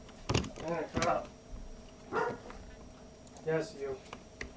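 Dogs barking indoors in short, sharp yips and bow-wows, several separate bursts close by, mixed with someone talking.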